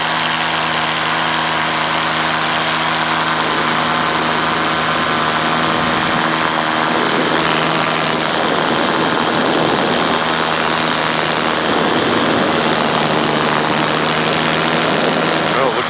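Paramotor engine droning loudly and steadily in flight over an airstrip, a constant close propeller buzz with wind rush and a voice talking over it.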